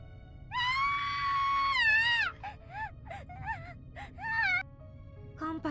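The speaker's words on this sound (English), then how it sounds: "the first of the girls in the line is next to scream for her life" A girl screams in the horror video game Corpse Party (2021 remake): one long anguished wail, then a string of shorter sobbing cries, loud and close over a low droning background.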